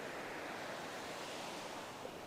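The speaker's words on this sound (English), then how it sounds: "Beautiful sounds" Steady rush of ocean waves breaking on a beach below cliffs at Olhos de Água in the Algarve, continuous and full, with a bit of wind noise in the background.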